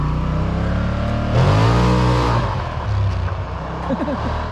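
An ATV engine revs hard after a new clutch kit is fitted, the roar swelling loud in a sustained burst mid-clip before easing back to a steady idle, with a voice talking over it.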